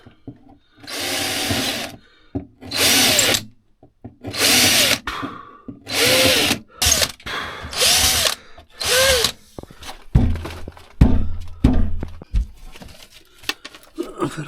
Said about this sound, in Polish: trzeba chyba jechać normalnie na wiertarę